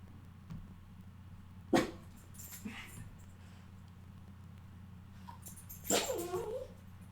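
Dogs bark in two short, sharp bursts that stand out over a steady low hum, one early and one louder near the end, with quiet gaps between them.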